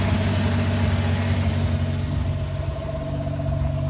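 A car engine running steadily after its first oil change in three years, a continuous low rumble with a constant tone at close range and no talk.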